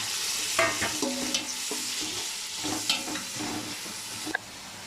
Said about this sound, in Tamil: பச்சை மிளகாய் வெங்காயம் நல்லா வதங்கிச்சு